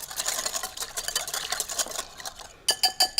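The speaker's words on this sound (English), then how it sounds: "Just whisk it all together." A dressing of pepper and minced garlic is whisked in a bowl, giving steady quiet rhythmic scraping and clinking. It ends in a few sharper taps against the rim.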